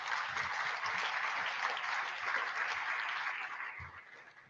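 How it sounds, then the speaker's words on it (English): Audience applause at a healthcare panel business luncheon, a dense steady wash of clapping from a seated crowd that tapers off toward the end. "So please give those guys a round of applause and thank them for their support."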